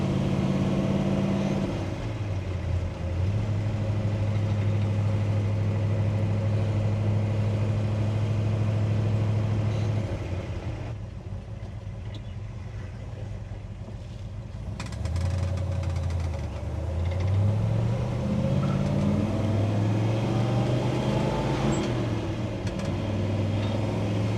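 A 1967 Chevy Chevelle SS with the L78 375hp V8 and 4-speed manual runs close by in a steady, loud rumble, with engine pitch falling, holding, then climbing again as it shifts and accelerates.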